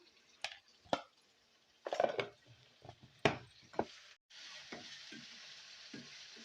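Onions frying in a pan with ginger garlic paste for a mutton curry: a soft steady sizzle broken by several sharp spoon scrapes and clacks against the pan, close and fairly quiet.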